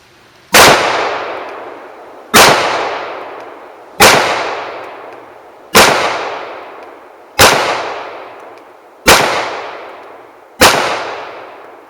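A Kahr CW9 9mm pistol fires Remington UMC rounds outdoors, seven loud sharp shots at steady intervals of about a second and a half, each with a decaying echo tail, and no talking.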